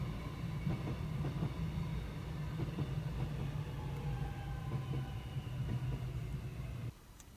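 A train rumbles past nearby with a steady low roar and faint rhythmic rail clatter that carries on for several seconds, then drops off abruptly near the end, heard from inside a parked car.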